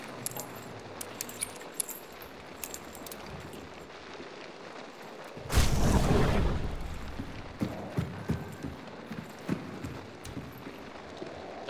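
In Hunt: Showdown, a rustling crash-like burst rises midway through, set over faint scattered clicking and clip-clop ticks that could be distant horse hooves, with no one speaking.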